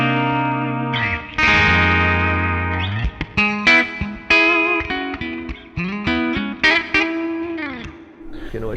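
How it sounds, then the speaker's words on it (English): Yamaha Pacifica 502V electric guitar played through its humbucker pickup into an amp with heavy distortion, a sustained chord followed by choppy, stabbing riffs with bright harmonic ringing and abrupt stops. "So you can hear the humbucker, how it works with more distortion in the amp."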